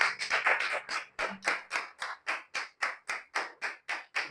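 A church congregation claps together in rhythm during a worship service, about two claps per second in an even beat that stays steady throughout, with no voices.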